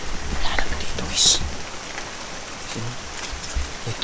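Continuous rainfall hissing and pattering close by, with faint voices murmuring underneath and a few brighter drips standing out.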